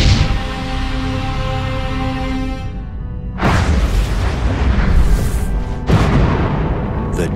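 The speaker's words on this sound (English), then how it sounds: "deadly explosions of supernovas are endlessly fascinating" A supernova explosion rendered as a cinematic sound effect: a loud, deep, continuous rumble broken by two heavy booming bursts, with no voices.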